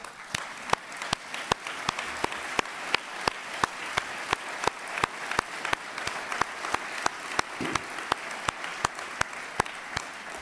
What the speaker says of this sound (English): would you please stand with me and salute and applaud all of our city employees